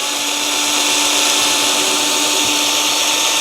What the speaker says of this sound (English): And you just drill through.